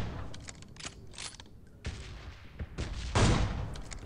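Several AWM sniper rifle shots in the PUBG Mobile video game, a solo-versus-squad match, with sharp broadband blasts scattered across the moment and the loudest near the end over a steady game-ambience bed.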